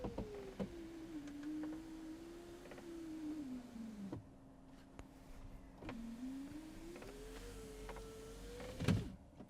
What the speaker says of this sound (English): Let me demonstrate the window regulator.